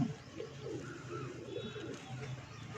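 A pigeon coos softly on a rooftop, low throaty calls repeating under a faint background hiss, quiet and somewhat distant.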